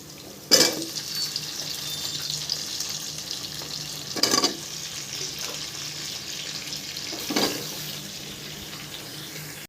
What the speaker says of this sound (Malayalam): ഈ പച്ചക്കറി നന്നായി വഴറ്റി കൊടുക്കുക.